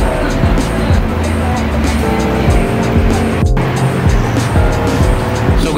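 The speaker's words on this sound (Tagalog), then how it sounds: "Ngayon nagbi-build up na ng traffic pailalim ng Harbor Tunnel na yan." Dense road traffic at the Harbour Tunnel entrance, with double-decker buses among the vehicles; a loud, steady rumble of engines and tyres with vehicles passing close by and a brief sharp squeal partway through.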